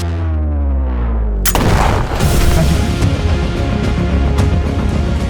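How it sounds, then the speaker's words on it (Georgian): A hunting rifle is fired at a nutria by water during a hunt in Georgia. After a steady low hum, a single sharp, loud blast erupts and rolls on as a dense, noisy rumble to the end. "შალვას გასროლა მოუსწრია"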